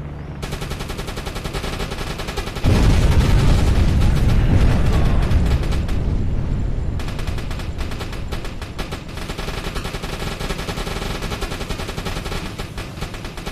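Anti-aircraft gun in the submarine game UBOAT firing at attacking aircraft: sustained rapid bursts of gunfire that swell into a heavier, louder barrage midway, then keep rattling steadily.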